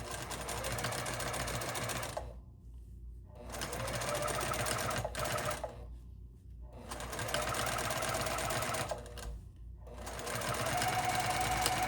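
A sewing machine stitches in long continuous bursts during free-motion quilting, stopping briefly three times between runs, loud and close with no voices.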